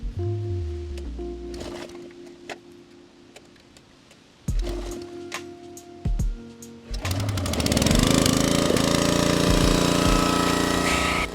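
The engine of a Husky vertical and horizontal log splitter sputters, cuts out and restarts a couple of times, then catches and settles into a loud, steady, close running roar.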